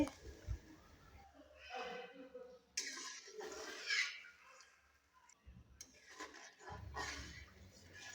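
Broth is poured into a spiced rui fish curry in a pan, producing close, noisy gushing splashes in several bursts, with kitchen clatter between them.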